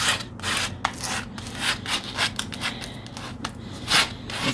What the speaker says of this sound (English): It's this multi-directional contouring during sanding.